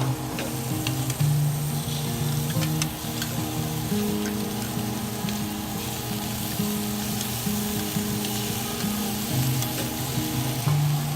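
Sea scallops sear in a pan with a loud, constant sizzle and crackle that stays even throughout, with a steady low hum underneath and no voices.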